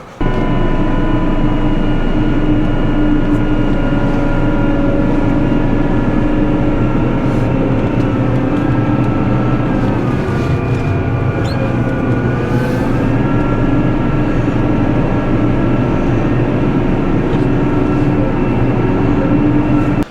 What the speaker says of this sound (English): I better pull that tractor back inside, I guess.